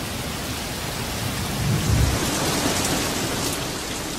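Steady heavy rain hisses throughout while a low rumble of thunder rolls up in the middle and slowly fades.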